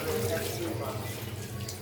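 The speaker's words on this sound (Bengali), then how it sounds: "তো গামলাত করে ধুয়ে নিলাম" Kochur loti (taro stolons) being washed by hand in water in a basin, with a steady, close sloshing and splashing that continues without pause throughout.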